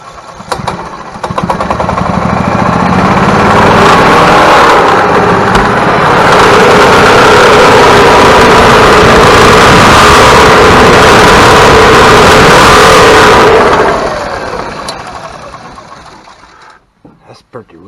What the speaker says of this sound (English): it's got some really rough noises when your clutches are in action